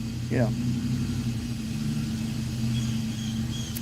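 Steady low engine rumble of a car with a loud muffler, a deep droning exhaust, close and continuous, with a brief chirp near the start and faint calls later.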